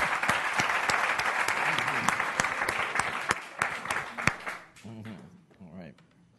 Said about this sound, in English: let's give our contestants a round of applause here